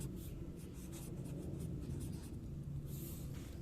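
Marker or chalk strokes on a classroom board while writing words, a series of quick scratchy swipes in an irregular rhythm, close and fairly faint with no talk.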